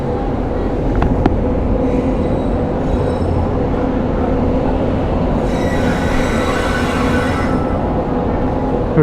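A train rolls on rails into Warangal railway station, its wheels squealing steadily and loudly at close range over a continuous heavy rumble, with no talk.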